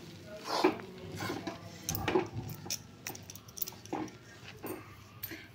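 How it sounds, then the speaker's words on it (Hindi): A spatula works gram flour around a pan over a low flame, roasting it for besan dry-fruit laddu; soft, intermittent scraping and light metallic clinks come close by, with no talking. "लो फ्लेम पर लगातार चलाते हुए बेसन को भूनेंगे।"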